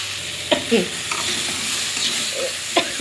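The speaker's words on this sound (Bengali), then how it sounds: "এবারে ভালো করে নাড়াচাড়া করে জল দিয়ে দেবো।" Chili powder, turmeric, cumin, coriander and ginger paste frying for a fish curry, a constant close sizzle with occasional spoon scrapes and taps against the pan.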